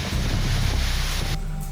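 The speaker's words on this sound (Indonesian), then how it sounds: "Kamera warga merekam momen saat puting beliung menerjang Desa Laju Kidul, Kabupaten Tuban, Jawa Timur, Senin sore." Powerful tornado winds tear through a village in Tuban, East Java, roaring steadily and loudly up close with constant buffeting against the microphone, easing slightly near the end.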